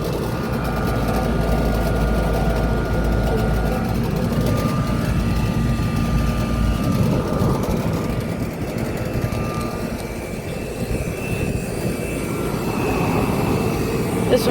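Residential Trane or Ruud outdoor air conditioner running under high heat load, a loud, steady fan and compressor drone with a rattle and faint tonal whine, continuous throughout.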